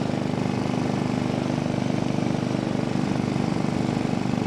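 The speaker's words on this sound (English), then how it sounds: "It's got push rods, so you're going to hear a lot of valve talk" A Royal Enfield single-cylinder engine with pushrod valves runs at a steady pace, its even, rapid thumping mixed with a fast mechanical valve ticking, loud and close with a constant drone.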